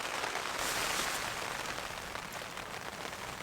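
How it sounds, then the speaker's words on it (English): Rain patters on a Hilleberg Soulo tent during solo camping in windy mountains, a dense, even hiss that stays soft and unbroken with no voices. "listen to the sound of the rain"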